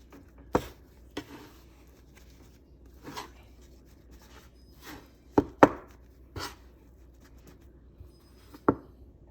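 Egg pasta dough mixed by hand, giving scattered soft sticky slaps and taps at an irregular pace with quiet gaps between them, close by and without speech.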